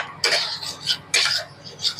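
Spoon scraping and clinking in a pan as tomato paste is stirred into fish curry spices, two bursts of metallic scraping, close and fairly loud.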